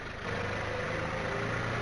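A tractor chasing lions in Amreli gives off a steady, low idling engine rumble at moderate distance, continuous and alone with no voices.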